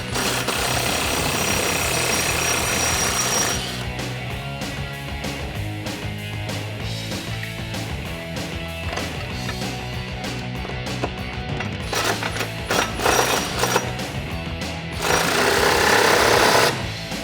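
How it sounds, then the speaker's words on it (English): Power tool rattling in loud sustained bursts as it works a factory body mount bolt out with an 18mm socket on a 2009-2018 Ram 1500 pickup, starting and stopping several times. "To get that bolt out, you're going to need an 18mm socket."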